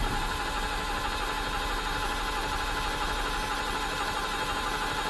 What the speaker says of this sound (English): let's just see if it cranks over. Yeah, good strong crank there.